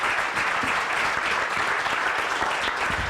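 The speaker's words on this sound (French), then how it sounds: "Je pense que ça mérite une bonne main d'applaudissements." An audience at an economic outlook event on the demographic challenge in Saguenay–Lac-Saint-Jean gives steady, even applause that fills the room throughout, with no pauses or voices.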